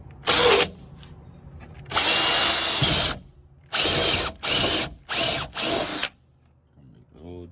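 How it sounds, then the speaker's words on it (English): A power drill bores a bolt hole in a Dodge Magnum door panel, running in six loud, close whining bursts of about half a second to a second each, with short quiet gaps between them and a faint rattle at the end. "See the bolt hole right where it should be, so I'm gonna get the drill ready."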